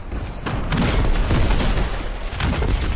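Grenades go off in a video game firefight, a dense run of loud booming blasts that crowd together and overlap without pause.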